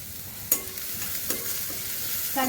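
Onion sautéing in a pan with turmeric and red chilli powder for grated bitter gourd bhaji, a continuous moderate sizzle broken by a few sharp utensil taps and scrapes.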